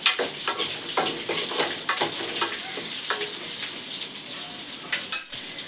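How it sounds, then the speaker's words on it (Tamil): Mustard seeds crackle and pop in hot oil, a dense steady sizzle with sharp bursts, close up, with a clink of a pan near the end. "கடுகு வந்து நல்லா பொரிக்கிற அளவுக்கு நல்லா வறுத்துக்கணும்"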